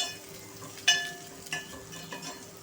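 Crushed ginger and garlic frying in oil in a pan for a cabbage and potato dish, with a soft steady sizzle, a sharp clink of a utensil early on and light stirring scrapes afterward, close by.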